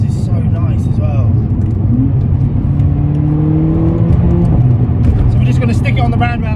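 A 381 bhp Mercedes A45 AMG being driven on the road, its engine note rising and settling through gear changes as a steady hum beneath continuous talking.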